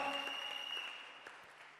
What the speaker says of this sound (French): Clap your hand and be seated